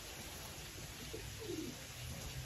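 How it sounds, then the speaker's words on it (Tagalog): Soft racing pigeon cooing, a few low murmuring coos in the middle, faint against steady background hiss. "So ito yung first bird natin, si Jam."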